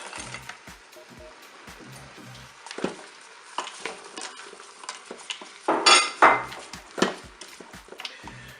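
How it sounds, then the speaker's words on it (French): Carrots tumble into a Cookeo multicooker pot and get stirred, with scattered utensil scrapes, clinks and knocks against the pot, some sharper clatters near the middle, and no talking. "Je mélange bien sûr. Là je vais ajouter mes carottes."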